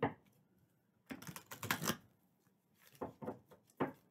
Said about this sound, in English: I may have to start just shuffling these, not on the table, because it really does move that.